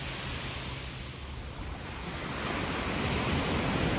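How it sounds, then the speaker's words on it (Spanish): Ocean waves wash and break steadily on the shore as a broad, continuous roar of surf that swells slightly louder toward the end, with no voices present. "leí que el sonido de las olas era como la respiración de ese gran gigante que es el mar o el océano"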